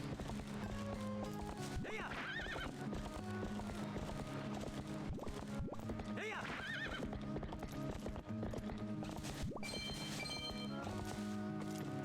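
In the Twilight Princess video game, a horse gallops with rhythmic clip-clop hoofbeats and neighs a few times over continuous game music, all at an even, moderate level.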